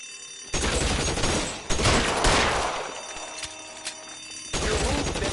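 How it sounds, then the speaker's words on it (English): Suppressing gunfire in the video game L.A. Noire: dense bursts of loud, rapid shots with crashing impacts, a break in firing, then another burst, with no talk. "I'll lay down some suppression fire."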